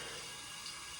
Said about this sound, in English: So just rinsing my hair.